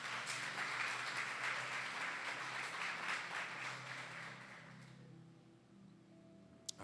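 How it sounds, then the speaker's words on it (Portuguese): A church congregation applauds during a worship service, with dense, loud clapping that fills the room for about five seconds before fading out into quiet. "Você pode aplaudir a palavra do Senhor?"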